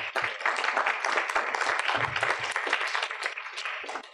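An audience at a panel on efficient water-use technologies gives a dense, steady round of applause that holds fairly loud for several seconds, with no talk over it.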